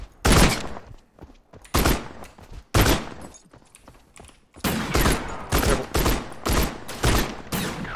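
Musket gunfire in a video game: roughly a dozen loud, sharp reports, first spaced about a second apart, then coming faster in a closer cluster, with short quiet gaps between shots.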